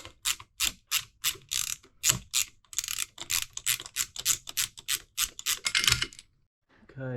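Rapid bursts of a hand ratchet undoing the rear axle bolts on an R32 Nissan Skyline GT-R, a dozen or more close, loud clicking runs in quick succession, then a brief pause before a new sound.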